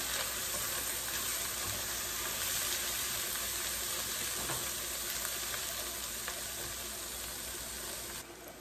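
Paste of ground onion, ginger and garlic fries hard in a pan with a dense, continuous sizzle close by, steady throughout and easing slightly at the very end.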